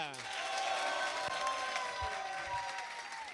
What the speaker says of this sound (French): Je vous demande d'applaudir Monsieur Nathan Bell.